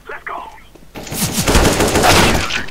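AK-47 fire in CS GO: a close, loud burst of rapid automatic shots that follows a moment of quiet game sound with a soft voice in the background.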